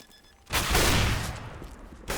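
Gunfire in Counter-Strike during an ESL Pro League match on Train, heard as a loud burst of rapid shots after a brief quiet moment, with a sharp final report at the end.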